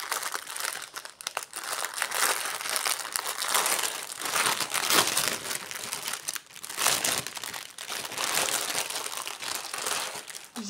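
Plastic wrapping on a cross-stitch kit package crinkles and crackles steadily as it is opened by hand, close and fairly quiet, with no voices.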